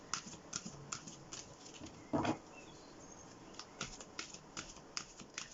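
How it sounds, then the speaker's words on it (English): Oversized tarot cards, as big as a hand, shuffled in a steady run of soft riffling snaps and slides, with one louder flurry near the middle, close and quiet. "please be patient while I shuffle them up a little bit"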